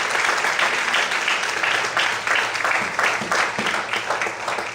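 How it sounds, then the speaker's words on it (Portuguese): A church congregation applauds during a sermon, a dense, sustained wash of clapping with slight pulsing swells, fairly loud and close, with no voices over it. "Você pode aplaudir ao Senhor por isso?"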